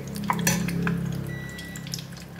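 Eggs frying golden brown in hot oil give a soft, steady sizzle close by, with a few light clinks of a utensil in the pan.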